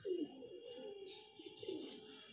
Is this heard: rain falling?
no